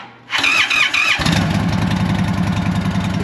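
An Indian Chief motorcycle engine starts up: a whining starter squeal cranks for about a second, then the engine catches into a loud, steady, rumbling idle close by.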